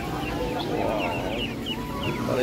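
Chickens clucking and squawking at a busy meat market stall selling mutton and poultry, steady overlapping bird calls against constant crowd noise and distant chatter.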